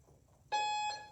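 A single electronic beep with bright harmonic tones, lasting about a second and dipping briefly midway, sounding out alone over a faint low hum.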